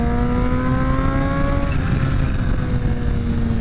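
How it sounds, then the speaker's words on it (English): A Kawasaki Ninja H2 SX SE+ with a flashed ECU runs loud and close, its supercharged engine holding a steady droning whine with layered tones that dip and shift midway. "That flutter of the supercharger."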